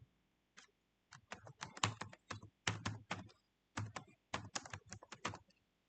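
Typing on a computer keyboard, close and quiet, in short bursts of rapid key clicks separated by brief pauses.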